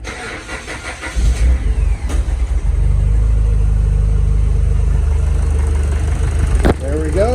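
A 2021 Starquest vehicle's engine cranks and fires up, then settles into a loud, steady running rumble close by. A brief click sounds near the end, and a voice is heard faintly.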